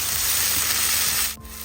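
Two medium chopped onions sizzle and fry in a pan for egg curry, a loud close crackling hiss that drops off abruptly near the end.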